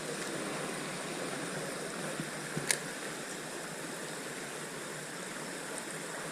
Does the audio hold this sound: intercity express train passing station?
no